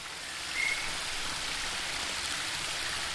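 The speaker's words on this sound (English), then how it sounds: "The waterfall and I have been neighbours for so long that I don't really hear it anymore." A steady waterfall roars on without a break in a garden beneath a growing tree in the video game The Book of Unwritten Tales 2, a broad, even wash of falling water that holds at one level throughout.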